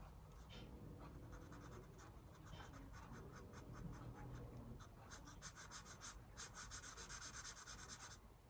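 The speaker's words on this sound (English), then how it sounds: "I'm just going to thicken this box out so it's more obvious." A pencil rubs back and forth on paper, thickening the lines of a drawn box, a soft continuous scratching with quicker strokes toward the end.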